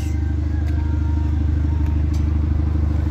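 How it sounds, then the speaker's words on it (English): A 2018 Hyundai Elantra 1.6T engine runs steadily near the microphone, a loud, continuous low rumble with faint rattling and no clear rev peaks. "Revved it."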